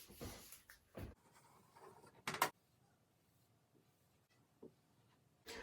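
A pen or marker sketches a telescope diagram during a physics lecture on telescopes, producing several short scratchy strokes with quiet pauses between them, close and fairly soft.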